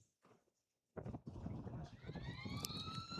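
A siren at a rugby match sounds to mark the end of a quarter, rising as a wailing tone over crowd and field noise after a quiet start.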